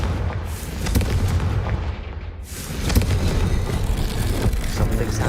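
Confringo fire spell cast in the Hogwarts Legacy video game, a loud blasting boom with rumbling low end and crackling debris that swells again midway, continuous over about five seconds.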